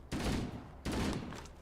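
Two loud bursts of video game gunfire in a robot shooter, each a dense rattling volley lasting over half a second, close and without talk.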